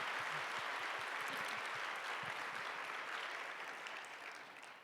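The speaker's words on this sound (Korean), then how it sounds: "목사님 사모님께 감사의 박수 올려드리겠습니다." A church congregation applauds in thanks for the pastor and his wife during a Sunday youth service, a steady, dense wash of clapping that fades slightly toward the end with no voices over it.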